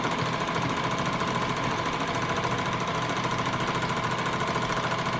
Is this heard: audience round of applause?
no